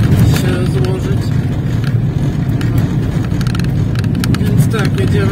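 A car driving along a road, steady low engine and tyre rumble heard from inside the cabin, with someone talking over it throughout.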